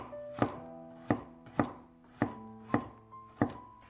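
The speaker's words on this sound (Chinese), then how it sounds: "几瓣大蒜切成片" A knife slices garlic cloves on a cutting board, six distinct chops spaced about half a second apart, close and clear with no talking, while tonal background music plays underneath.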